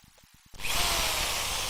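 A power drill starts after a few faint clicks and runs at a loud, steady whine close by, continuing without pause.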